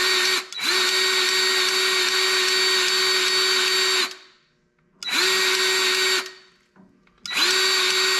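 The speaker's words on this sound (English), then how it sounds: "cordless grease gun, and it is outstanding. Fantastic tool." A cordless grease gun's motor whirs loudly while greasing a snow blower shaft, running in three bursts: one long run of about four seconds, then two shorter runs separated by brief silences.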